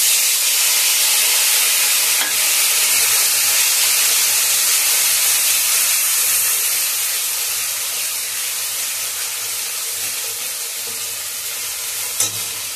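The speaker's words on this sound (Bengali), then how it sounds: "গ্যাসটা বাড়িয়ে দিলাম। এবার এই দেখো, এবার মশলাটা আমি দিয়ে দিচ্ছি।" Spices hit a hot pan over a turned-up gas flame and set off a loud, steady sizzle with a bright, hissing spray. It runs unbroken and close, easing slightly toward the end, with a single short clink near the finish.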